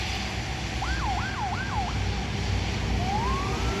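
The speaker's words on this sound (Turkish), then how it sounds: "Aynı o koruma araçlarında da siren var." Escort vehicle siren accompanying a wind turbine transport on a rural road, three quick rising-falling wails followed by one long upward sweep, heard over a steady engine and road rumble.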